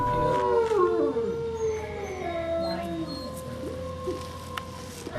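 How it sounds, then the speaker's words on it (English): A captive wolf in a wolf yard gives sliding howls mixed with short barking howls as a threat display. The calls are fairly close and rise and fall over a low background hum. "He's been doing a little bark howling and a little threat display howling"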